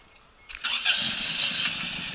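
A Toyota Corolla engine cranks briefly and catches, firing up into a loud, steady idle close by that settles and holds without any voices.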